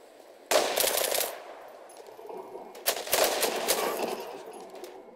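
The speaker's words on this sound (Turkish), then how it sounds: "ben o adama sıkarken öbürü de arkadan bana sıkıyor" Loud automatic gunfire from the online shooter ZULA, two sustained rapid bursts with a ringing tail between them, nearby and with no talking.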